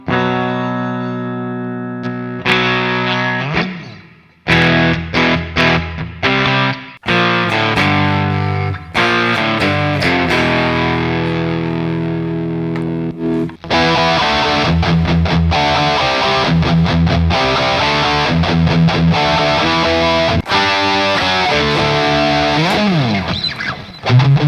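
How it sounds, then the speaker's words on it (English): An Enya Inspire travel guitar played through its onboard distortion effect: loud, heavily distorted chords and sustained notes with abrupt stops and restarts and a few squealing slides. "since we've got some distortion going and all that, this is all from the onboard effects from this."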